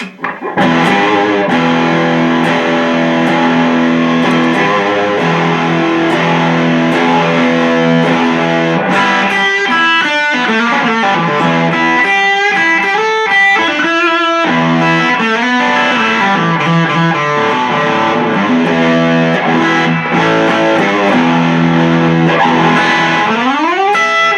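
A heavily distorted electric guitar plays loud, sustained chords and riffs continuously, thick and saturated throughout.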